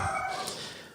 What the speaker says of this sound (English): that's my dog telling me that it's time to get going.